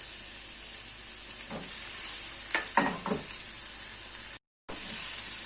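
Steady sizzle of chopped onion frying in oil, close and constant, with a few stirring scrapes and a brief dropout near the end.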